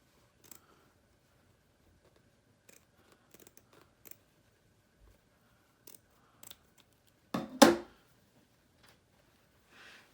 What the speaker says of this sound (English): So I'm just cutting away just some of that seam allowance